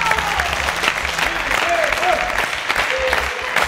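Studio audience at a televised film quiz show breaking into loud applause, dense clapping filling the space with a few cheers and whistles on top.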